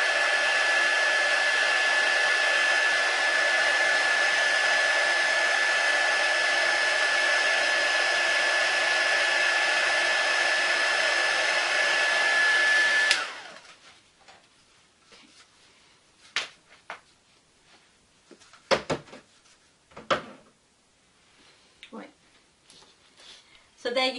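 A heat gun blows steadily while shrinking shrink wrap over a handmade hamper, a loud continuous whoosh with a thin whine that cuts off abruptly about halfway through, followed by quiet rustling and handling noises.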